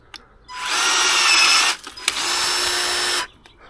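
A Ryobi electric lopper's motor whines loudly in two steady bursts, each about a second long, separated by a brief pause with a click as limbs are trimmed.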